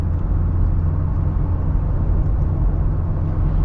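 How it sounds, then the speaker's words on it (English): Road rumble from 37-inch tires on a 2025 AEV Gladiator JT370, a steady low, dense roar filling the cabin at a constant level with no talking over it. "I need to get a little bit more noise from the tires."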